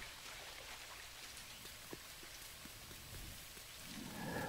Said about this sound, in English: This rain is intense.